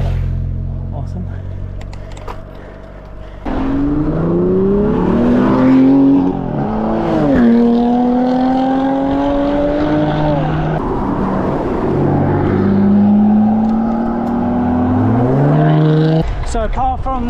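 A small fleet of supercars roars past on an undulating rural road in the Trough of Bowland, loud engines revving and shifting through rising, falling pitches as several cars pass close by in succession.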